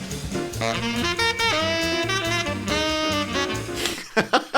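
A saxophone plays a fast, flowing jazz lick over a backing track with steady bass and drums, loud and close, ending in a few sparse hits.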